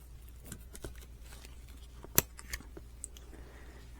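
Scissors snipping a big artificial flower in two, a single sharp close cut standing out over quiet room background.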